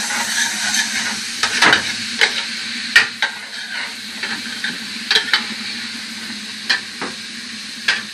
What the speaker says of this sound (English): And I stir it all together.